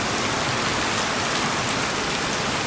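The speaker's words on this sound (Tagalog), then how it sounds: "Napakalakas na ulan." Heavy rain pours down on a yard in a continuous, dense hiss with no breaks, loud and close.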